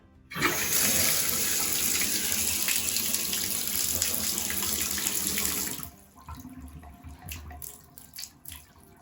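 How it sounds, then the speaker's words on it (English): A faucet turned back on after a repair runs in a loud steady stream for about six seconds, then shuts off, leaving faint drips and small clatters. "turn the water back on"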